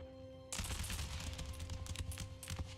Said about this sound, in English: Fire on the grenadiers, men.